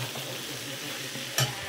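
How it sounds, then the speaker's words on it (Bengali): A vegetable curry is stirred in a pan over a low flame, producing a faint, steady hiss of gentle frying, then a single short scrape of the spoon near the end, with no talk. "এখন গ্যাসের আঁচটাকে লো করে দিয়ে বেশ কিছুক্ষণ এটাকে নাড়াচাড়া করব।"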